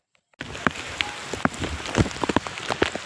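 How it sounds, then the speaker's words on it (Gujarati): Steady rain pours down after a sudden start, with scattered louder drops pattering on a nearby surface throughout. "તો મિત્રો વરસાદ ચાલુ થઈ ગયો હો તમે જોઈ શકો ફૂલ વરસાદની મોજ"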